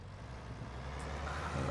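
A tractor fitted with a front loader and a large exhaust pipe idles in Farming Simulator 19, a steady low engine drone that swells slightly toward the end, alone without talk.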